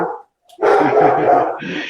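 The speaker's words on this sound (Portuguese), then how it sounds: "aí foi latir lá para os cachorros" A dog barks at other dogs in a short burst, a loud close yap followed by a brief pause and then a longer sustained bark with a trailing whine.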